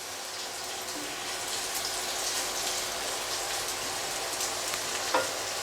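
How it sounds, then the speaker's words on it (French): Onions sizzle steadily in hot fat in a pan, a continuous close crackling hiss with faint stirring clicks and no talking. "je vais les faire revenir un petit peu dans cette matière grasse"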